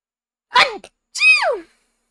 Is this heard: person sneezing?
yes